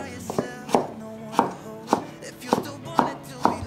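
Knife chopping a peeled potato into thin strips on a cutting board, with seven or eight evenly spaced crisp thuds in a steady rhythm, close and clear, with no talking.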